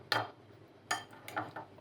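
A spoon stirs an oats and curd face mask in a bowl, giving four separate light metallic clinks at an uneven pace, close and quiet.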